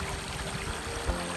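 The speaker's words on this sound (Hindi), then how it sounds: "ये लेक का वाटर सोर्स है, ये छोटा सा नाला है, लेकिन पानी बहुत साफ है।" A small, clear stream feeding a lake in Ziro, flowing as a steady soft broadband wash of water with one brief splash-like bump near the end, no voices.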